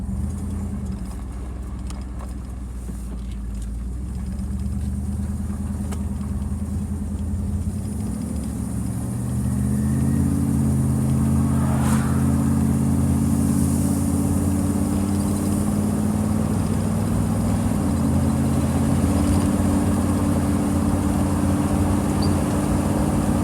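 A car fitted with a rebuilt GM 4L80E transmission drives off on a test run, its engine drone rising steadily as it accelerates and then holding a loud, even hum with shifting pitch; no voices.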